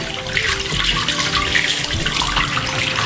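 Water rinses steadily through the synthetic fibers of a wrap-around ponytail under a running tap, a loud, continuous splashing gush with a sink-like wash that fills the whole stretch, with no talking.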